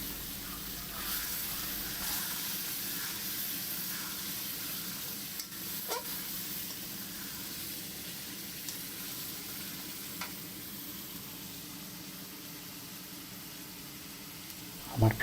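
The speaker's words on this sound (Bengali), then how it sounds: "এখানে বাটারের টুকরো দিয়ে দিলাম। আর আমি অল্প করে জল দিয়ে দিচ্ছি।" Steady sizzling of masala frying in a pan as butter pieces and water go in, a continuous hiss with occasional soft stirring knocks, fairly close and unbroken.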